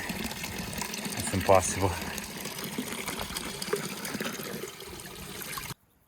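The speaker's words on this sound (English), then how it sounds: "there's a fountain that looks this good, you cannot not get a fill of water" Water trickles and splashes into a bottle at a mountain fountain atop a hot alpine climb, a close, continuous flow with a short spoken remark over it before it stops abruptly.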